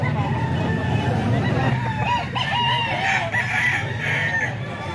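Rooster crowing amid a busy poultry sale, a drawn-out crow rising over steady clucking and crowd babble, with people talking throughout.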